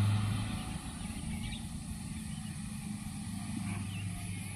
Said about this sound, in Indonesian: Ya, ini ada mobil-mobil yang mau lewat nih.